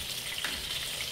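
Large red chillies sizzle in a generous amount of hot oil, a dense, steady crackling fry with a brief louder pop, close and alone.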